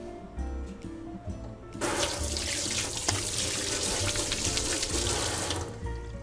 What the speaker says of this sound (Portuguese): Agora eu vou lavar as mãos